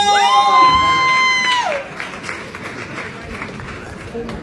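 A crowd applauds and cheers for a rapper at a book-buying event, a loud burst of clapping and shouts with a whistle-like whoop at first, then settling into steadier, softer clapping.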